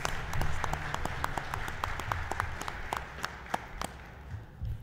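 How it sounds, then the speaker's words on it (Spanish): Scattered applause from a modest audience at a book presentation forum in Mexico, honouring a former state justice official; distinct individual claps ring out over a low background murmur for several seconds. "Les pedimos un aplauso para el licenciado Arturo Nale García."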